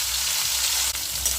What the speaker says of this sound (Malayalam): ഇനി ഇതിലേക്ക് തക്കാളി ഇട്ട് കൊടുക്കുക.